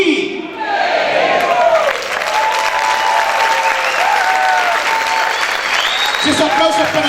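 A church congregation applauds loudly and steadily, with cheers and voices calling out over the sustained clapping.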